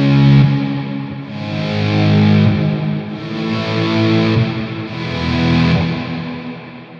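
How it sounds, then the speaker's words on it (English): An electric guitar runs through a Big Sky reverb in series mode with kill dry, giving slow, loud swelling washes of sustained tone that rise and fade in repeated waves, with no talking over them. "Which is a really cool swell reverb sound."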